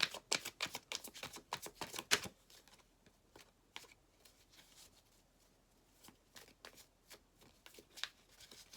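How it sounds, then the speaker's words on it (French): Tarot cards handled and flipped face up, a run of quick, close papery snaps and flicks followed by softer, sparser taps. "Alors, les cartes sont mises à l'envers. Je les remets à l'endroit."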